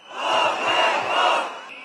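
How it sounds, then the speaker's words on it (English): Large crowd of protesters outside the parliament in Georgia, a loud, sustained roar of shouting voices that swells and holds without letup. "Crowds mass on the front steps of Parliament, venting their fury and attempting to force their way in."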